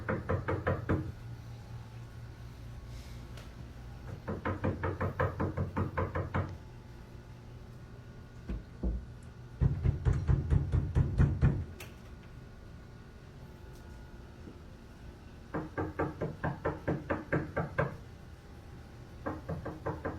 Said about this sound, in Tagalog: Talagang palaging may katok ng katok sa ward.